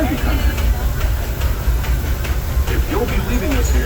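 The Disneyland Railroad train rolls along its track at the park, with steady rumbling, clacking wheels and a hissing sound running throughout, close and fairly loud, with a recorded voice announcing over it.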